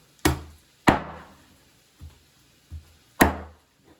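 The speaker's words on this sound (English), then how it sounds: "See? Chopping right through." A heavy knife chops through bone in sharp, close strikes with uneven spacing, three loud cracking blows and a couple of lighter taps, each one ringing briefly and then falling to quiet.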